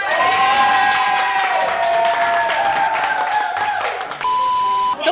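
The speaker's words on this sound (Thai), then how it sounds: "แล้วก็ปรบมือให้อินทนนท์ด้วย" A group at a Squid Game-themed party game show claps and cheers together, loud and lively with tonal music or electronic tones running underneath, then cuts to a quieter stretch near the end.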